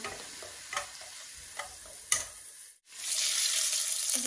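Onions frying in a pan, a soft steady sizzle with a few scraping stirs, then a brief drop before the sizzle swells louder, near and without talk.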